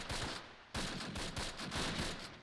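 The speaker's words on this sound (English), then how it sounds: "there's somebody shooting at us from the building now" Sustained bursts of small-arms and machine-gun fire ring out from a building in the World War II strategy game Close Combat, set at Groesbeek Heights near Arnhem. The loud, crackling volleys run nearly continuously, with a brief gap before a fresh barrage, and no voices.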